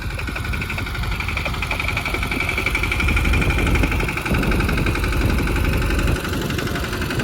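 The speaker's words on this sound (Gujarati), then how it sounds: "ભાઈ વાવણી ત્યારે ટ્રેક્ટરથી વાવીએ છીએ એજમાં." Tractor engine running steadily during ajwain seed sowing in a field, a continuous mid-low diesel drone with a slight swell in the middle, close and loud with no talk.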